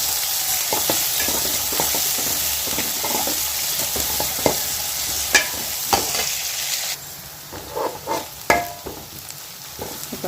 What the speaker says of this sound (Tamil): வெங்காயத்தை சேர்த்து நல்லா வதக்கிக்கலாம்.